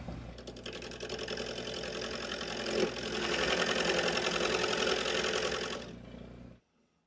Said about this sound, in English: I'm just going to use the lathe itself